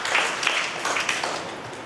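Applause from a congregation at a church festival for Saint Anne's anniversary, a steady broadband patter of many hands lasting the whole short moment at moderate level, with no talk over it.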